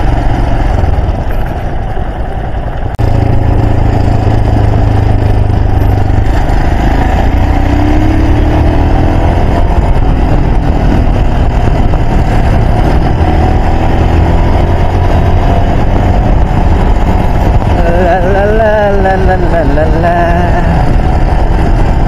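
A loud, steady motorcycle engine drone carries on while riding a mountain road in Nepal at dusk, with voices talking over it toward the end.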